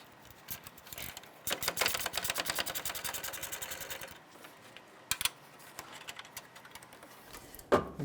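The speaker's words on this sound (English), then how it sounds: "Use our 12mm gear wrench to go ahead and loosen and remove these." A 12mm gear wrench ratchets in rapid clicking bursts while loosening and removing the horn bolts on a 2012-2017 Toyota Camry, with a long run of close clicks followed by shorter spurts.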